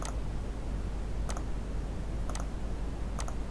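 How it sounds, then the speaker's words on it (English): Four sparse, light clicks of computer keyboard keys tapped at roughly one-second intervals, faint over a low steady room hum. "Press DI on my keyboard."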